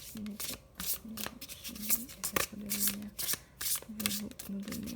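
Tarot cards from an akashic deck are riffled and shuffled by hand in quick, papery bursts, a low voice murmuring faintly between the shuffles.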